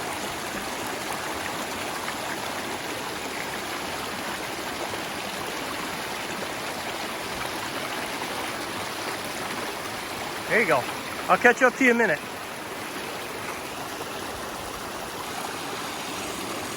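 A steady rush of rainwater running down a trail, like a small stream, with someone briefly speaking near the end over it.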